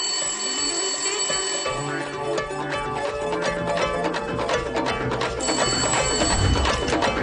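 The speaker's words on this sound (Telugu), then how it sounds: "ఇంకో నెంబర్ నుంచి మనం ట్యాప్ చేస్తున్న నెంబర్ కి కాల్ వస్తుంది సార్" A telephone rings continuously with a bright, repeating electronic tone that holds steady and fairly loud throughout, with no talking.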